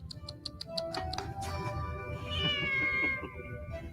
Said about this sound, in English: You just brought the cat right to the dinner table?